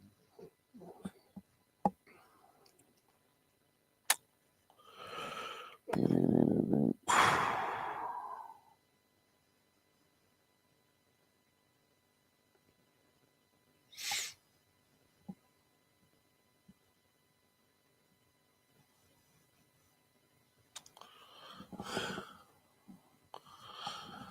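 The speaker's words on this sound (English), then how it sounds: "I'm over here sniffling." A person sniffling: a few sharp nasal sniffs, then a longer cluster of snorty breaths, separated by quiet gaps, close and fairly soft.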